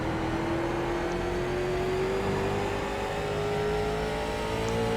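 A late model race car engine from the iRacing sim at Thompson drones loud and continuous, its pitch climbing slowly as it pulls down the straight, with no voices over it.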